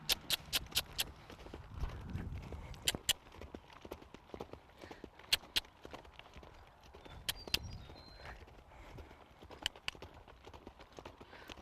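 A saddled roan mare walks on a lunge line during groundwork, her hooves giving irregular clip-clop steps at moderate distance against a quiet outdoor background.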